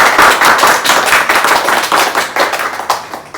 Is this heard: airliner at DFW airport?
no